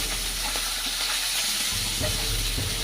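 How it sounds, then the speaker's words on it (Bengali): Hilsa fish heads fry in hot oil in a home kitchen, a steady bright sizzle with crackle running throughout, with a low hum underneath and occasional faint stirring clicks. "ইলিশ মাছের মাথাগুলো ভেজে নিব খুব সুন্দর করে লাল লাল করে ভেজে নিতে হবে"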